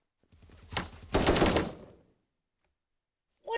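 Automatic rifle fire from an AK in the browser shooter Krunker, two loud bursts of rapid gunfire in quick succession, then silence before another shot starts at the end.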